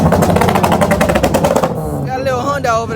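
A Honda car revving, its engine firing in a rapid, loud, staccato rattle for over a second before easing off into a lower idle as a voice talks over it.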